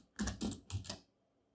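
Four quick keystrokes on a computer keyboard while someone writes CSS code, close and fairly soft, followed by silence.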